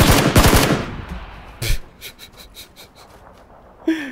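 SCAR rifle gunfire in PUBG, a loud rapid burst of close shots at the start, then a single sharp shot and a string of fainter pops trailing off.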